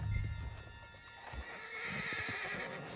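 A horse in Red Dead Redemption 2 snorts and whinnies, with hoof clip-clops and low rumbling at the start, fairly quiet and close, with faint game ambience and no speech.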